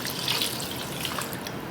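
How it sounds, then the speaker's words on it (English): Water is poured into a pot of rice with vegetables, a steady splashing rush filling the whole stretch at close range with no voices. "I'm going in with some water, just enough to cover the rice."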